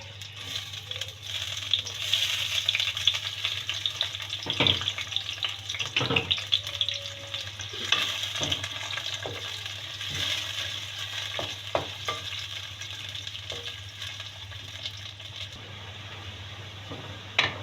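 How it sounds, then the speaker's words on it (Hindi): Onions frying in hot oil for a drumstick (sahjan) curry: a steady, close sizzle runs throughout, with scattered stirring scrapes and clicks and no voice. "ऑयल हमारा गर्म हो जाए तो इसके अंदर हम ये प्याज डालते हैं अपनी"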